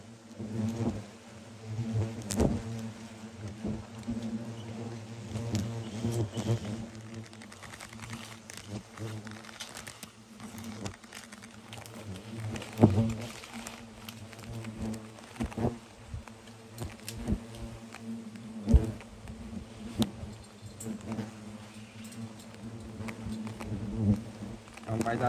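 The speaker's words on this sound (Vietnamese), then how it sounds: "Đúng là ong vỡ tổ." A big swarm of bees pours out of a disturbed nest high in a tree, a dense continuous buzzing hum that swells and dips with sharp crackles, while people talk now and then over it.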